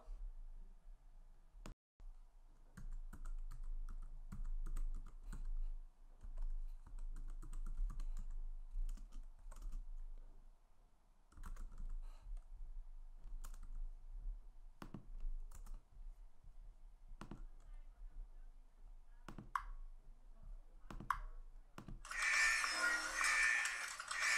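Computer keyboard typing in quick, irregular bursts of clicks across the stretch, fairly close, with no talk over it and a brief loud hiss near the end.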